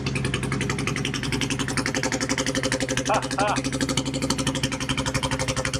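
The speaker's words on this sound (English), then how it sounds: "You just rock it over this way to start the bike up." A Royal Enfield motorcycle with an aftermarket exhaust idles steadily at close range, a low continuous rumble with a voice talking over it the whole time.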